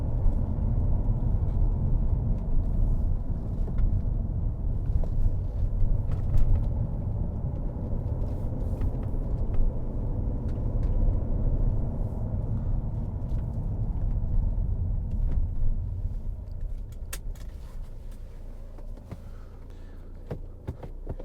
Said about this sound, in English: You can change up and down with the paddles like so, and it's for a diesel, it's a nice sounding vehicle.